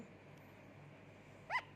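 One brief, high yip from a small puppy lying under a blanket breaks a quiet room near the end, faint and close by.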